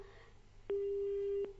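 A telephone busy tone sounds after a call on a live phone-in show drops: two clipped clicks frame a single steady, fairly loud tone lasting under a second, following faint background noise.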